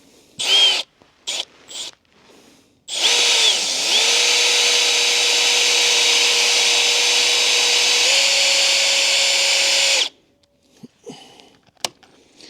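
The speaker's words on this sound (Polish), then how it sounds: "Zwiercimy z tej strony to jest dwunastka." A 12 mm wood auger bit with a 1/4-inch hex shank is driven through wood by a power drill. After a few short starts comes a loud, steady whine lasting about seven seconds, with a slight pitch rise before it stops.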